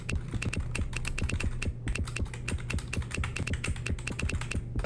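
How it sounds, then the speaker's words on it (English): Rapid typing on a computer keyboard during a trivia game, a dense run of crisp clicking keystrokes with brief pauses, close and clear with no talking. "Start typing."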